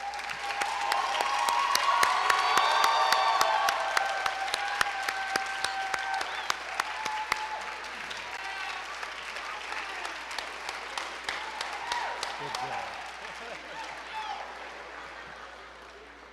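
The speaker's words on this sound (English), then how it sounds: "thank them with your applause" Audience applause at a performing arts center dedication ceremony, sustained crowd clapping with scattered sharp claps and a few cheers, loudest early and gradually thinning out over the closing seconds.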